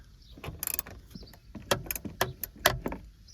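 Ratchet and socket removing bolts from a Toyota RAV4 dashboard, a few quick bursts of clicking separated by short pauses, close and fairly quiet with no speech.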